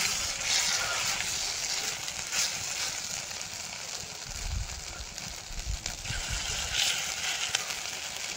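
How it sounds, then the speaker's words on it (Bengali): Soybean fritters frying in hot oil: a steady, moderate crackling sizzle with occasional low clatter from the pan, and no voices. "বড়াগুলো ভেজে নেব।"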